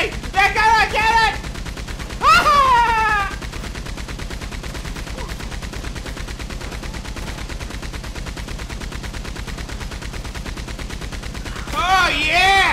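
Minigun in a video game firing one long continuous stream of rapid shots, loud and close throughout, with someone shouting excitedly over it at the start, around the middle and at the end.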